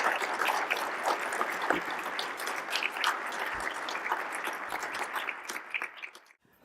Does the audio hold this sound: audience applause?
yes